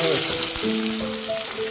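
Onion drops into hot oil with crackled cumin for a pork and capsicum curry, giving a close, loud sizzle while a voice talks over it.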